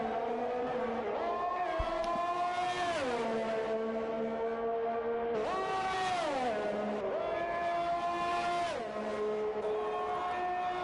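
A race car engine warms up before a qualifying run on the Baku street circuit, rising and falling in loud revving sweeps with several distinct surges and gear changes over a steady high whine.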